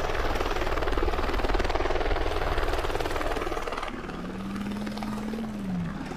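A news helicopter in the Driver San Francisco video game drones steadily with a dense rotor wash and engine whine, loud and close throughout, with a faint rising tonal hum in the latter half.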